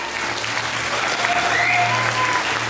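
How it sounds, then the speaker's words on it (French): An audience at the Miss Moselle 2013 contestant presentation applauds contestant Alexandra with a dense, continuous wash of clapping, steady and fairly distant, with a low hum and faint tones underneath. "Vous pouvez applaudir Alexandra,"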